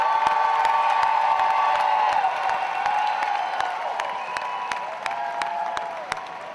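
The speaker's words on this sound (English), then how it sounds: "One last round of applause for the class of 2016, please" A crowd applauds and cheers the graduating class of 2016 at a school awards show, with dense clapping, scattered whoops and shouts, and a sustained tonal hum underneath, loud at first and easing slightly toward the end.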